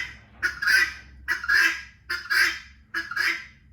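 Hungry guinea fowl calling nearby, four loud harsh honking bursts in a steady rhythm, each a grating two-part squawk, with no voices.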